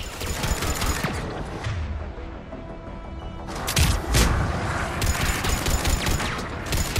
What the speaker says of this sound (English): Missiles online. Missiles away.